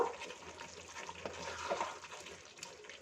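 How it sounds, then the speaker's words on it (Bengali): Half a cup of water pours into a simmering pot of dum aloo on the stove. It makes a steady, soft, close splashing and gurgling that lasts a few seconds. "আর হাফ কাপ জল আমি আবার এর মধ্যে দিয়ে দিলাম।"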